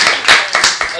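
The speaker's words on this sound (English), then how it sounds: "So, anyway, y'all can clap." A few people in a crowded room clap close by, several sharp separate claps in quick uneven succession over about a second.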